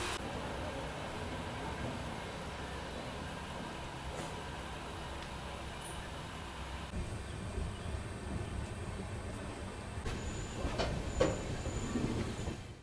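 Inside an empty sleeper coach of the 12226 Kaifiyat Express, a Delhi–Azamgarh passenger train, the wheels rumble steadily. The coach rattles, and short metallic squeals and clanks grow louder near the end.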